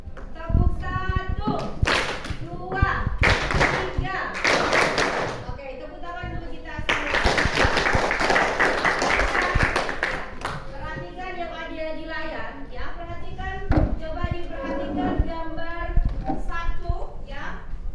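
Schoolchildren in an Indonesian classroom clap together in a rhythmic class-clap routine, with bursts of loud, closely spaced claps alternating with the children's chanting voices and a teacher nearby.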